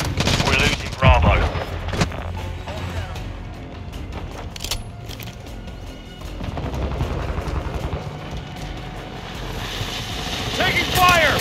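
Call of Duty Modern Warfare 2 Domination match on the Shoot House map, with bursts of automatic gunfire and sharp shots in a busy game mix, plus radio-style voice callouts heard through the action.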